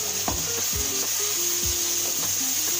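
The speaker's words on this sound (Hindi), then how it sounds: "लो जी, मसाला मेरा भून गया।" Masala with red chilli powder frying in a pan for dhaba-style chana dal, a steady close sizzle with intermittent scraping and stirring strokes of a spoon against the pan.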